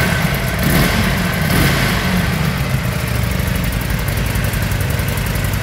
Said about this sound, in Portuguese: Só Harley que tem esse som